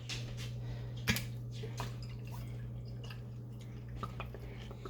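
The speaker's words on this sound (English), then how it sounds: "But we want to put some of this juice all over top." Stir-fry juice with oyster sauce spooned over beef, heard as soft liquid drips and wet squishes over a steady low hum, one sharper splash near the start.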